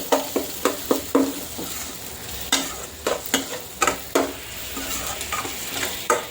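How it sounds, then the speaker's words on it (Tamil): Onion sautés in a pan for spicy Yippee noodles, with a soft sizzle under a quick series of close scraping, clacking stirs, bunched in bursts and then more spread out. "Onion actually வதங்கிட்டுருக்கு."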